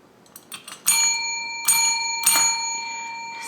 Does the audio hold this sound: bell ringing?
yes